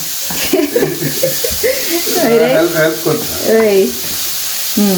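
Vegetables being mixed and fried over a high flame in a pan, a soft sizzle running under someone speaking throughout.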